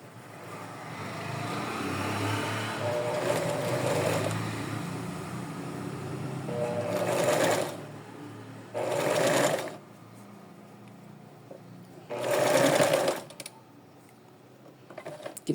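A sewing machine stitches small doll clothes around a rounded neckline, running in a long steady stretch and then in three short, close, whirring bursts with brief pauses between.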